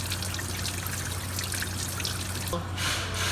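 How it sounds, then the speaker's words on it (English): Coolant trickling and splashing as it drains out of an Acura TL engine during timing belt work, a continuous close-up pour over a low steady hum that thins out near the end. "let it drain out a little bit, and wait for it to empty all the coolant out"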